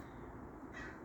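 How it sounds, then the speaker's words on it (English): A single faint crow caw sounds near the end, over a steady low background hum. "And a friendly crow, of course."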